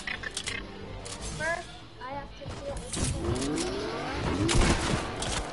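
Submachine gun fire in a video game, several bursts of rapid shots with game effects, heard under someone talking over the action.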